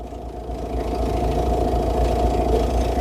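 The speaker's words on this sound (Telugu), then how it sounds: "ఇంజిన్ నాయిస్ బాగుంది. పెట్రోల్ ఇంజిన్ లాగా స్మూత్గా ఉంది సార్." A 2019 Honda Amaze V diesel engine idling smoothly, a steady low rumble with a faint even mechanical tick, heard close and continuous with no talk.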